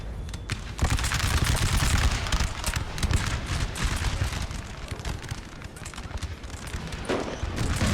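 Continuous artillery and musket fire from the Napoleon Total War video game crackles in dense, overlapping volleys, with heavier thuds standing out as the barrage rolls on steadily throughout.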